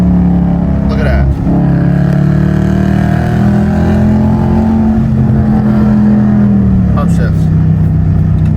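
Car with paddle shifters, its engine droning loud and close as revs climb and fall across gear changes, with a brief shift blip near the start and another later, continuous and dominant.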